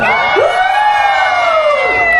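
A dense festival crowd outdoors shouts and cheers loudly and steadily in one sustained roar, with no break in the noise.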